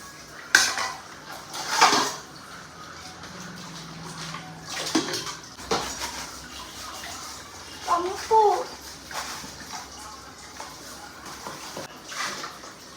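Dishes and pots clatter and clink with splashing water, in irregular bursts, while voices murmur faintly in the background.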